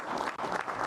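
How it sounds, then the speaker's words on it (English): Brief burst of audience applause, many hands clapping at once in a short, dense patter. "Look, they're clapping for this."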